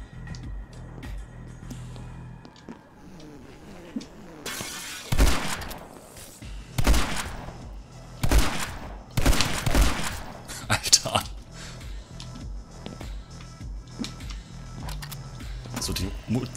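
Bursts of Uzi fire in the action game My Friend Pedro, several short loud volleys spaced a second or two apart, with a voice talking over quieter stretches between them.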